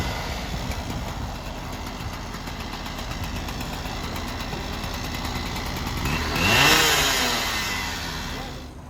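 A speed swing lifts a section of rail during track construction, giving a steady diesel engine drone with a brief surge in power and revving near the end.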